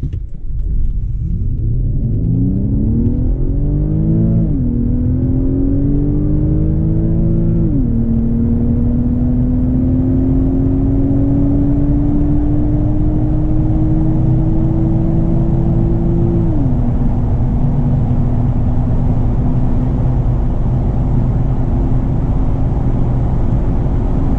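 Infiniti Q50S Hybrid in sport mode launches hard, its engine note rising in pitch through several gear shifts, each marked by a brief dip before climbing again, then settling into a steady loud cruising drone.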